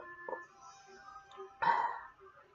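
A cartoon belch in the style of Peter Griffin or Homer Simpson erupts as one loud, raspy burst partway through, preceded by a short throaty sound and quieter background noise.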